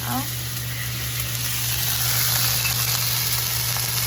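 Steady, dense sizzling and crackling of oil spitting as salmon and mushrooms pan-fry in an uncovered pan, loud and continuous throughout with a constant background hum.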